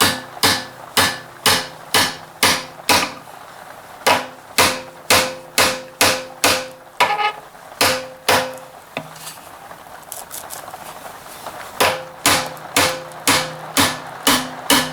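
A spalted maple vase segment, hot-glued to a plywood block, is knocked off with a steady series of sharp, loud strikes. Each blow rings briefly, and there is a short pause partway through before the rhythmic hits resume.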